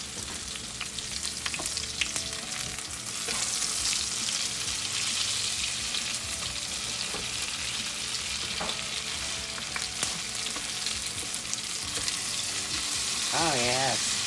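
Pinto bean patties fry in grease in a pan with a steady, close crackling sizzle and occasional scraping turns, the hiss swelling as they are flipped near the end.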